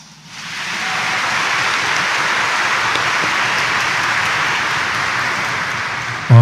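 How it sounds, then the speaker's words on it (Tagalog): Congregation clapping loudly during Sunday mass at Quiapo Church in Manila, a dense, even roar of many hands that starts abruptly and sustains steadily throughout. "Ang mga naniniwala na sasagutin ni Jesus Nazareno ang kanilang mga dasal, pumalakpak ng mas malakas"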